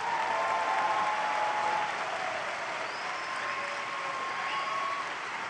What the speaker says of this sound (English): maybe we can now give them an applause for the group that's passed